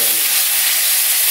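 Water poured into a hot pan while cooking spicy shrimp and petai balado erupts in a loud, steady, broadband sizzle and hiss that fills the short moment without a break.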